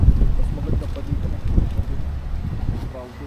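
Steady wind rushing and buffeting across the microphone at a seaside campsite, loud and continuous, with faint voices underneath.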